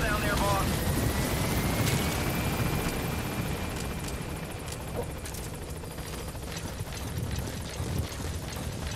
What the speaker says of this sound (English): Come on, chopper,